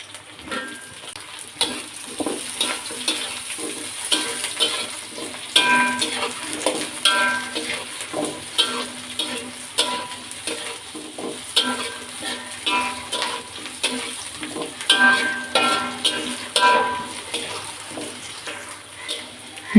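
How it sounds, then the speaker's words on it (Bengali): Sliced eggplant sizzles and crackles in hot oil in a pan, with intermittent stirring scrapes and clinks. The sound is moderately loud and continuous, and no one speaks. "বেগুনগুলো এখন সুন্দর করে ভেজে নেব।"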